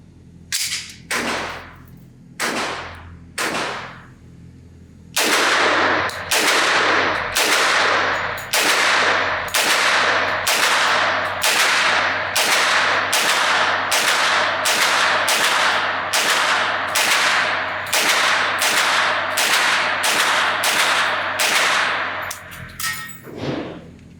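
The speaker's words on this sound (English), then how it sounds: "I'm going to load up one of these magazines, just get my first initial shots" A B&T SPC10 Pro 10mm pistol fired at a shooting range: a few spaced shots, then a rapid, evenly paced string of about twenty loud, close reports with sharp cracks and ringing decay.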